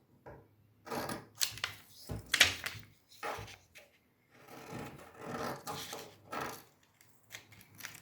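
Scissors cut paper strips, 9.5 by 2 cm, in a series of close, dry snipping and rasping strokes that come in irregular bursts separated by short pauses and faint handling noise.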